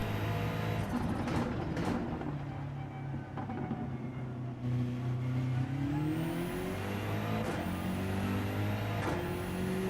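Racing engines from a BMW race car in the Gran Turismo 7 video game during an online daily race, a steady loud drone with rising and falling gear-shift pitch sweeps and occasional brief bursts, running continuously without talk.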